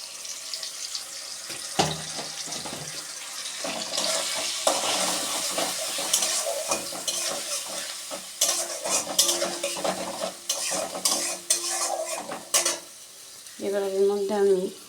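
Onion paste fries in a pan, a rushing sizzle mixed with repeated utensil clatter and stirring scrapes; water is poured from a rinsed mixer jar, and the sound swells and dips unevenly.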